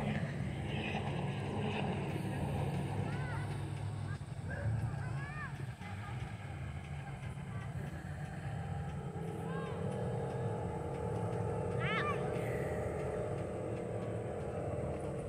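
A steady low motor drone of motorboats across an open lake in a park fills the scene, with distant chatter and chirpy bird-like squeaks over wind.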